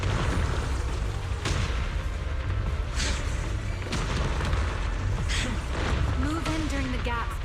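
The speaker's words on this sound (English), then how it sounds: "Move in during the gaps between explosions." Explosions in the game Zenless Zone Zero thump as a few deep booms spaced through a dense, noisy battle mix, with voices talking over parts of it.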